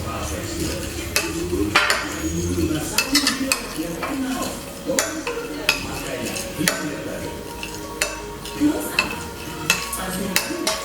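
Runny flour batter is stirred and spread in a pan, with close, repeated scraping strokes and frequent spoon taps and clinks against the metal, and no voices.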